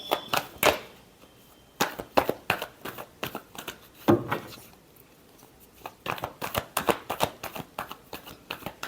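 Tarot cards shuffled by hand, a run of quick crisp riffling bursts in close-up with short pauses between them, quiet and alone.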